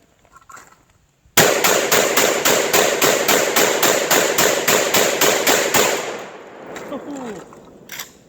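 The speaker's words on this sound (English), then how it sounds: "We're gonna dump these 20 rounds into that stump right there." A Lynx 12 shotgun emptying a 20-round drum into a stump outdoors, firing a rapid even string of about twenty loud close blasts that echo off, followed by quieter handling noise.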